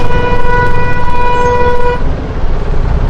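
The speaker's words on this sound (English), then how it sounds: "so you hear those horns" Several steady car horns blare together in Bangalore traffic for about two seconds, then cut off, leaving loud road noise and engine rumble behind.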